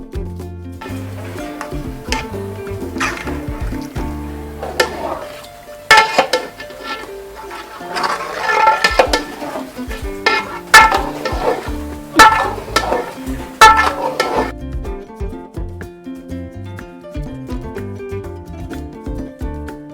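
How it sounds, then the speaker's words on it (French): Rice being stirred through sauce in a cooking pot for Senegalese thieboudienne, irregular scraping and clattering strokes in bursts, then quieting toward the end. "on va bien remuer afin que cela ne se colle pas en dessous de la marmite"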